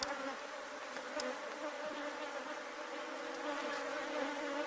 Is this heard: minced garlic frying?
no